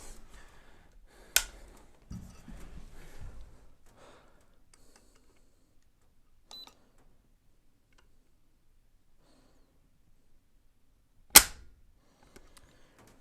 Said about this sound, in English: we're going to pull out our Lyman digital trigger gauge and see how the trigger feels.